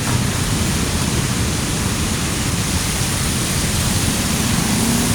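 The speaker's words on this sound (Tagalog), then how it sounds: "buburjak ang malakas na ulan" Heavy rain pours down during a typhoon, a dense, steady roar of water that fills the whole stretch without a break or any talking.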